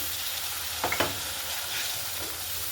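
A ground paste of poppy seed, black and yellow mustard and green chili sautéing in a pan, a continuous hissing fry with a couple of brief stirring scrapes midway.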